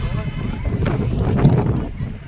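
Strong wind buffets the microphone in a low, rumbling roar, with faint voices in the background.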